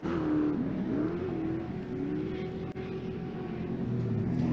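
Off-road race trucks roaring around the short course at Victorville, a steady loud engine drone with shifting pitch as the pack runs flat out.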